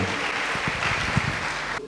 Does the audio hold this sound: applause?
yes